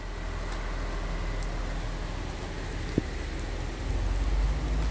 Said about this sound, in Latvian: Sāka līt lietus